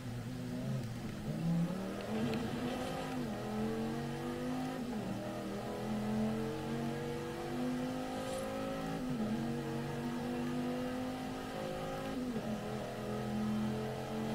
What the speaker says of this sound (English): we are in some Forza Horizon 5 now. Got some Viper action going on.